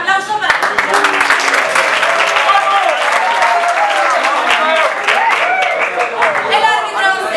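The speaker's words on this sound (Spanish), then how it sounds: "Un aplauso para él." Theatre audience at an improvisation match applauds the referee, a loud, dense and sustained round of clapping from a crowd, with faint voices mixed in, lasting throughout.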